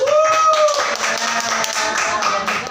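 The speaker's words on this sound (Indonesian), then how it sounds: "Oke, tepuk tangan dulu dong." A classroom group claps their hands during a microteaching session, a short spell of scattered clapping with voices and tonal noise mixed in.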